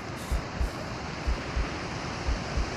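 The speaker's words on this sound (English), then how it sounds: "I hear lots of water." Steady rushing water in the video game Green Hell VR fills the scene, a continuous broadband wash with soft low thumps recurring in a regular rhythm.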